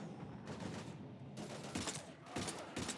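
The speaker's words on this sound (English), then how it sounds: "We're taking heavy fire." Gunfire in the video game Mass Effect 3 comes in several sharp, loud bursts of rapid shots separated by short pauses, with a busy battle backdrop between volleys.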